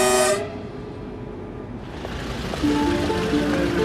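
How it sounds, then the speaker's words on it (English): Orient Express train rumbles along with a dull rolling roar, a short tonal toot at the start and faint squealing tones later, no voices. "Why don't you join me aboard the most famous train on earth?"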